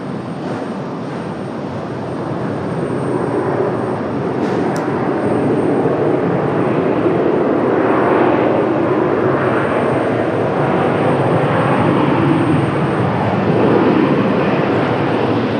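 A jet airliner taking off from Raleigh-Durham International Airport, a steady loud engine roar rising slightly and holding throughout, broad and continuous with no voices.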